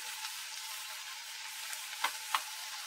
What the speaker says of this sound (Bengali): এবারে এগুলো একটু নেড়ে ছেড়ে সব একসাথে ভালো করে আমি একটু মিশিয়ে নিচ্ছি